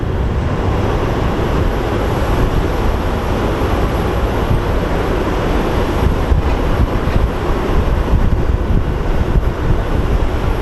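At Sky Harbor International Airport an airplane takes off with a loud, continuous, broad rumbling roar that stays steady and heavy for the whole stretch, with no voices.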